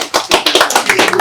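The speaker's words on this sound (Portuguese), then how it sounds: "E palmas aí para nós." An audience at a talk on climbing the Seven Summits, including Everest, breaks into brief, loud, dense applause, a rapid patter of many hands clapping close by.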